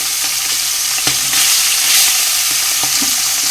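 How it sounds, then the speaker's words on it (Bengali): Fish fry in hot oil in a wok, a loud, dense, continuous sizzle heard close up, with a few sharp crackles and pops, and no talk. "কড়াইতে তো তেল দিয়ে দিয়েছি, দেখো তেলটা গরম হয়ে গেছে। তো আমি মাছগুলো দিয়ে দিচ্ছি।"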